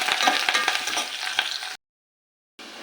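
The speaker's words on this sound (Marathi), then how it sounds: "कांदा परतून घ्यायचा आहे आणि त्याचबरोबर इथे मी कढीपत्ता पण टाकून घेतो" Onion and curry leaves fry in a pan with a loud, dense sizzle and crackle for nearly two seconds, then cut to silence before the sizzling briefly resumes.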